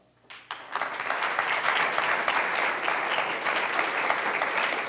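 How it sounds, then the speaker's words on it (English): Applause from an audience breaks out after a brief quiet moment, building fast into a dense, even wash of clapping that holds steady at moderate loudness. "give yourselves a round of applause."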